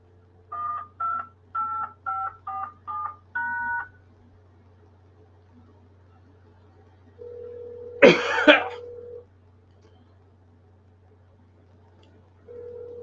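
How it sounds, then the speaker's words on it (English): A single harsh cough bursts out after a run of electronic phone-dial tones, followed by a low hum and quiet background. "I need a cigarette right when I cough my fucking lungs up"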